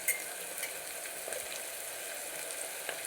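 Mango pieces sizzle and fry in a pan, a steady bright hiss with faint stirring ticks, close and continuous with no voice.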